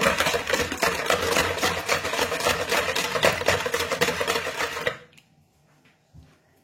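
Whisking three egg yolks and a whole egg in a bowl for coconut doughnut dough, a fast continuous clatter of utensil against the bowl, close and loud for about five seconds before stopping abruptly.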